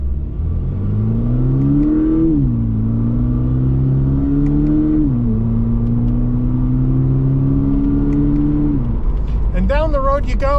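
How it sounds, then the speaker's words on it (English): A 2023 Toyota GR86 with a new engine accelerating down a road, its engine note rising steadily, dropping at each of two gear shifts and then climbing again, loud and close from inside the cabin, with a voice at the end. "Down the road you go, and it shifts really well."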